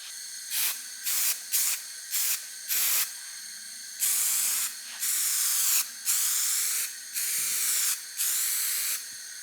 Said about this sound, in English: we're just gonna use some black spray paint and just dust it on